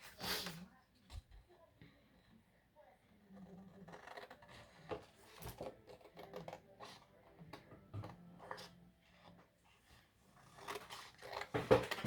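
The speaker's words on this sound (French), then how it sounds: "Attendez, je vais finir de couper." Scissors snipping through craft paper or card for a handmade Advent calendar, a series of short crisp cuts scattered across the clip under quiet room noise, with someone speaking briefly between the snips.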